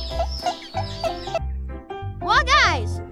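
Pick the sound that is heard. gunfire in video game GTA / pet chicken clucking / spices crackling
pet chicken clucking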